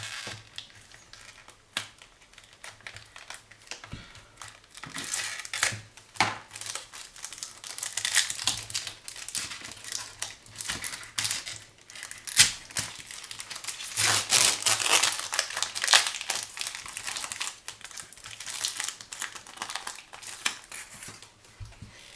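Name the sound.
tearing open trading card packs (1996 Skybox Skymotion)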